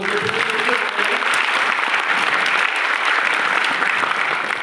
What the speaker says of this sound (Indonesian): Bayangin tepuk tangan dulu tuh semua pengurus BPP